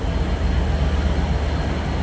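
A train at Stockport station gives off a loud, steady, close rumble that fills the whole stretch with no breaks or distinct clanks.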